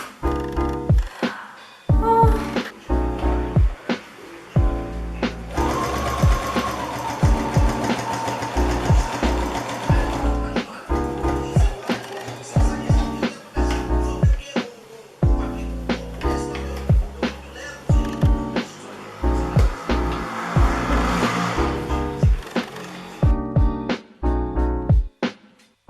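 Sewing machine stitching a pair of trousers, running in repeated bursts of fast mechanical whirring with short pauses between seams, close and fairly loud, with no talk over it.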